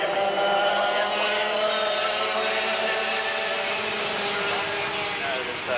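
Several dirt karts race past the start-finish line, their engines buzzing loudly and continuously, with a dense high-pitched drone and overlapping engine tones that stay close throughout.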